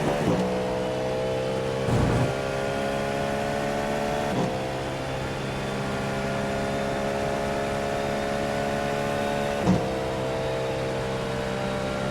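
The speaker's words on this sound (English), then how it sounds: "A little bit sluggish on the downshift there." Prototype race car in the iRacing sim, a steady droning engine whose pitch slides down at each downshift, with three or four short blips where the revs drop and climb back, heard alone with no talk.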